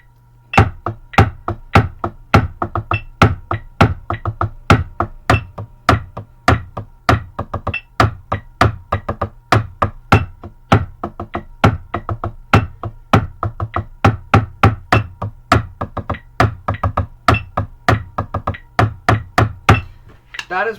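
A high school drumline plays the Spirit Bucks accent tap exercise, a long run of sharp, evenly spaced snare strokes with accented hits standing out in a steady, driving rhythm.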